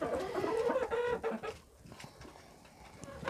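Chickens clucking close by, a busy run of clucks and squawks for the first second and a half, then quieter scattered clucking with low background noise.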